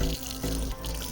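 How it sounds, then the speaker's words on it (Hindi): Mountain spring water flowing continuously from a tap in the Kainchi Dham and Bhimtal area, a close, steady splashing gush with no pause. "कि पानी अपने आप निकलता रहता है, कोई चलाने की ज़रूरत नहीं है नल को"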